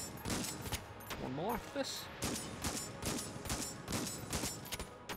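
Rapid gunfire in the roguelike shooter Enter the Gungeon, a steady stream of repeated shots at an even rhythm across the clip, with a player talking over it.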